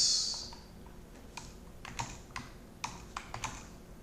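Typing code on a computer keyboard, a close, irregular run of light key clicks with small pauses between bursts, no voices.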